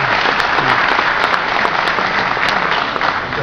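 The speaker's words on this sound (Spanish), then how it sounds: "el señor Oscar Bada, a quien le brindamos un fuerte aplauso." Loud, sustained applause from a conference audience at a business congress, dense and steady clapping filling the whole stretch with no talk over it.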